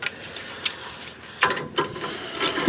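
Ratchet wrench tightening bolts on the emergency brake of a 2005-2015 Nissan Frontier, giving a few short, close clicking bursts spaced apart, with no talk.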